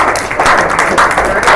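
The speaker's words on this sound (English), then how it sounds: "Let's give Paul Davis a round of applause." Audience in a panel session clapping for Paul Davis, a steady, fairly loud wash of applause throughout the short moment.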